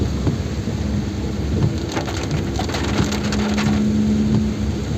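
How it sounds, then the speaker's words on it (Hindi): Steady heavy rain hisses over dense forest foliage in Jim Corbett, a continuous broadband wash with scattered drops and a faint low rumble, no voices. "और अच्छी खासी बारिश"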